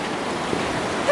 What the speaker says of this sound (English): It's another big river.